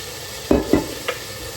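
A steady sizzling hiss of pork chops frying in a pan, broken by a few scraping strokes of a utensil against the pan; no one speaks.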